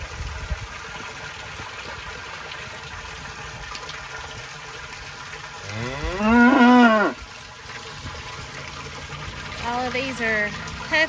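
Heifers at a fresh water tank let out one loud, drawn-out moo close by, with a fainter lowing call near the end, over steady outdoor background noise.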